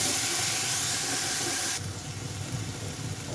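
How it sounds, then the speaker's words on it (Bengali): Garlic paste sizzles in hot oil with cumin seeds in a pan, a steady broadband hiss that is loud at first and then drops to a softer, continuous fry after about two seconds. "রসুন ভেজে নেওয়া হয়ে গেল।"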